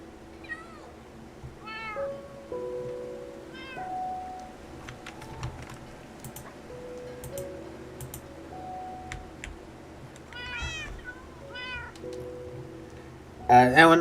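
A Minecraft cat meows over and over in short, rising cries, with light keyboard clicks and faint voices around it and a burst of louder noise at the very end.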